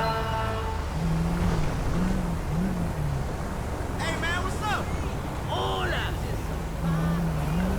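A police car in GTA V races along with a continuous engine rumble, with wavering siren-like tones rising and falling and someone talking over it.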